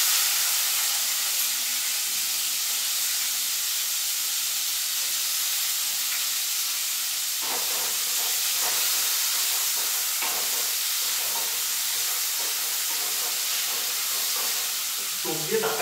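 Chopped onions hit hot oil for a chicken kosha and sizzle continuously with a loud, bright hiss, while scattered crackles and spatters pop up more often in the second half.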